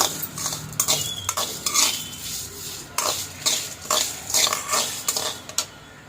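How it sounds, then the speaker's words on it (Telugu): Okra being stirred and fried in oil in a pan for a chutney, close spoon scrapes and clatter in irregular bursts over a soft sizzle, with no talking. "కొంచెం ఆయిల్ అనేది వేసేసి మంచిగా దొరగా ఏకనేయాలి"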